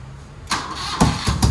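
A motorcycle engine with air in its fuel line is started in a repair shop with the choke off: after a quiet half second, a close starter whir breaks into three uneven sputtering bursts as it tries to catch, with no talking.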